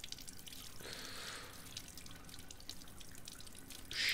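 Water running from a sink tap in Resident Evil 8, a thin trickling stream with light dripping, fairly quiet and steady, with a brief brighter splash near the end and no talk.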